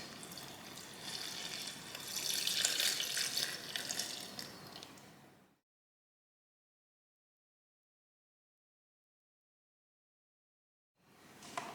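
Tepid water pours steadily from a container into an Aldi bread maker's pan for about five seconds, a close, bright splashing that thins out before a long silence and a brief return of pouring at the end.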